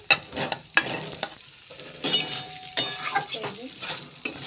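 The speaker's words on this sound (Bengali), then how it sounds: "এই যে এখন আমি সেই ভাজা আলু কটা দিয়ে দিচ্ছি" Fried potatoes go into a sizzling pan and are stirred, with sharp scrapes and metallic clinks of a utensil against the pan over a soft, steady crackle, close and fairly quiet.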